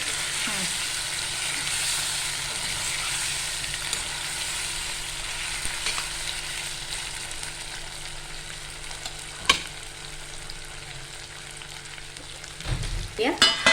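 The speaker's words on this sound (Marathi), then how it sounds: "चांगलं असं ढवळून घेऊया." Stuffed eggplant fries in a pan on a full gas flame while being stirred, giving a steady close sizzle with spoon scrapes and a sharp clatter near the end.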